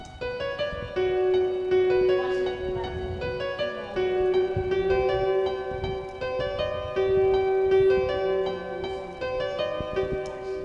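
Piano melody played back in FL Studio at its original pitch, sustained tonal notes ringing steadily and fairly loud, with no talking over it.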